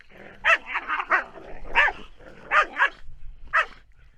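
Two dogs bark in short, sharp bursts, roughly seven or eight yaps and yips spaced irregularly, close and clear, with occasional whiny tones between barks.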